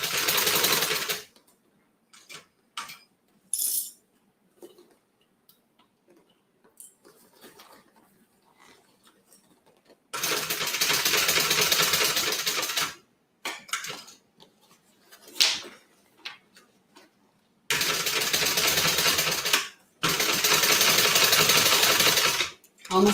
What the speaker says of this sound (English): we're going to top stitch across the front